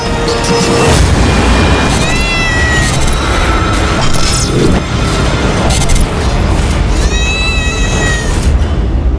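A demonic cat meows and caterwauls loudly in repeated drawn-out wails, mixed with booming crashes and dramatic background noise throughout.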